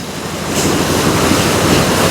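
Powerful Ganges river rapids in flood at Rishikesh, a dense, steady roar of churning, boiling water, loud and close, with no speech over it.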